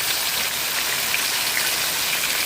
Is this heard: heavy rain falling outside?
yes